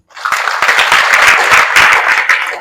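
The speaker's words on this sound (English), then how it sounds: "with a round of applause, ladies and gentlemen, let's acknowledge Dr." Audience at a staff and student consultative meeting breaks into a round of applause, dense steady clapping from many hands that swells quickly and holds for a few seconds before tapering.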